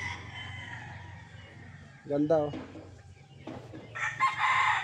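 A Mount Banahaw tornado hatch rooster crows loudly nearby in the middle, then clucks and crows again near the end, with someone briefly speaking and low background noise throughout.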